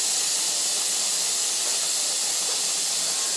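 Beef steak frying in hot oil in a home kitchen, a steady loud hiss of sizzling that holds evenly throughout with no talking.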